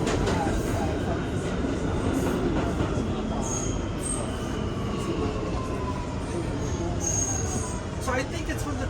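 R211T walk-through subway car braking on the line, with a constant rumbling roll and repeated high-pitched wheel squeals that come and go over several seconds, heard from inside the car.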